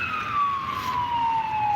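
An ambulance siren wails on the Las Vegas Strip on a rainy night, a loud sliding tone sweeping downward over a wet traffic background.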